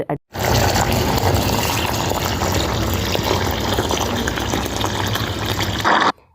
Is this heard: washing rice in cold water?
yes